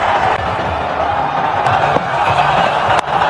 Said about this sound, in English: Pakistan crowd on their feet out at mid-wicket.